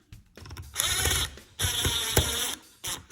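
Screws being reinstalled and tightened, heard as ratcheting, clicking bursts of a driver turning in three short runs separated by brief pauses, close and fairly quiet.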